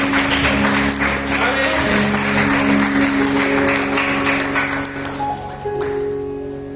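A church congregation claps steadily through a Spanish-language sermon service while sustained keyboard or organ chords hold underneath, the applause loud and dense before thinning slightly near the end.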